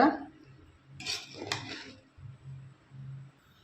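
Spoon scraping and clinking against a pot while prawn biryani rice is mixed, a few metallic scrapes followed by softer low stirring thumps, close and with no talk.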